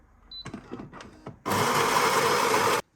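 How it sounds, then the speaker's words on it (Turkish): An espresso machine pulling a shot gives a few soft clicks and knocks, then a loud, steady buzzing pump drone for just over a second before cutting off abruptly. "Bir espresso çekiyorum."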